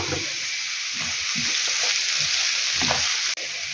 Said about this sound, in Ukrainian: Цибуля теж трішки просмажилася.